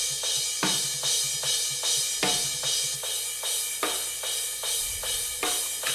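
Drum overhead cymbals with no EQ, a repeating groove of bright crashes and rides over low drum thumps, about a dozen hits at even pace, loud and close with no talking.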